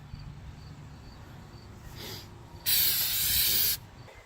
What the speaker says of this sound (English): Now as you spray, it's gonna fill in all the cracks and holes.